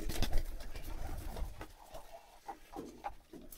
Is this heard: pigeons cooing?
yes